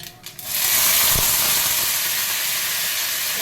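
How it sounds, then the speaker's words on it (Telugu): Soaked moong dal hits a hot tempering of spices in a pan, setting off a sudden loud sizzling hiss that jumps up within half a second and then holds steady and bright, with no voices over it. "ఇప్పుడు పెసరపప్పు వేసుకుంటాను."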